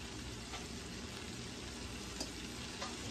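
Seafood pot pie filling sizzles and fries steadily in a hot pan, a dense, continuous crackle at close range with no talking over it.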